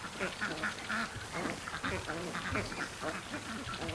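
Ducks heading down to a lake, giving repeated overlapping quacks at close to moderate distance, with faint background voices mixed in.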